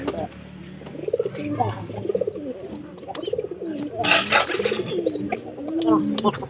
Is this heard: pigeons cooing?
yes